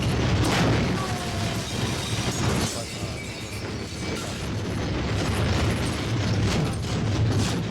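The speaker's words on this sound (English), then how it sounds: "Firecrackers." Firecrackers crackle and burst in a video game scene, a dense, continuous spray of pops and bangs over a rumbling background that stays loud throughout.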